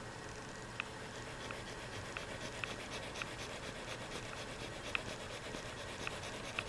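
A Blackwing graphite pencil scratches and brushes across paper with a soft, continuous grainy rasp and small irregular clicks of strokes, close and quiet, with no talking.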